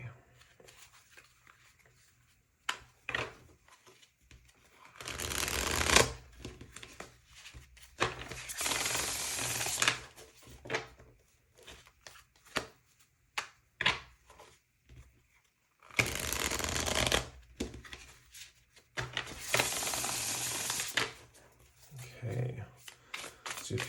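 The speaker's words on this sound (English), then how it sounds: "Do a few more side shuffles, and then we will split the deck and pull." Tarot cards are shuffled in several loud, crisp riffling bursts, separated by quieter rustling and handling noises.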